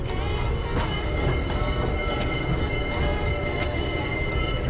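A tram rumbles past along a city street in Kyiv, a steady broadband roll of wheels on rails with faint metallic squeals, near and continuous throughout.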